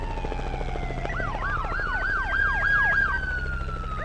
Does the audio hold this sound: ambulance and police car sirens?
yes